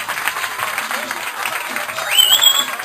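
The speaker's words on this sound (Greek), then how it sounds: "χειροκρότημα θέλω για τους φορείς," An audience at a dance school event in Crete applauds loudly and steadily, the clapping swelling toward the end while a voice carries over it.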